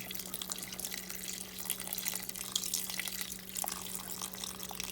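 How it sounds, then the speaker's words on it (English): Swanson's beef broth pours steadily from a 14.5-ounce can into a small batch of Guinness beef stew in the pot, a continuous close liquid stream with faint splashing and no talk. "So I did buy some Swanson's beef broth, so I'm going to add that in there."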